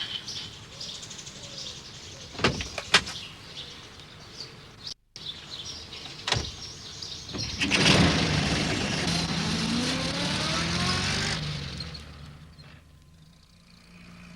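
Postman Pat's van drives along a sunny country road, its engine rising into a steady hum mid-way while birds chirp faintly in the background, after a few light knocks and a brief gap.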